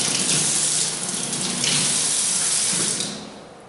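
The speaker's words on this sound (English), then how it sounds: "We start by wetting our hands before applying soap." Tap water runs steadily into a sink as hands are wetted for a surgical scrub, a close, continuous splashing hiss that fades toward the end, with no talk.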